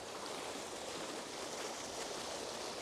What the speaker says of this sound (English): Amazing water feature.